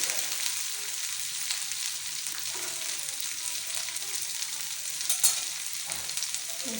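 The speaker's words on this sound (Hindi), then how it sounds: "जब भिंडियाँ थोड़ी सी फ्राई हो जाएंगी तब हम इसमें प्याज ऐड कर लेंगे।" Okra (bhindi) frying in a pan, producing an even, bright sizzling hiss that holds steady throughout, with a brief louder crackle near the end; close, unbroken by speech.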